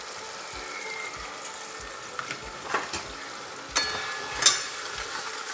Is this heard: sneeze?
no